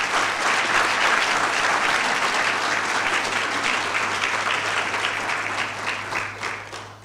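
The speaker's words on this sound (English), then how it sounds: "Can we give this a round of applause?" An audience at a public law and constitutional democracy event in Africa breaks into sustained applause. The clapping is dense and even throughout, then tapers slightly toward the end.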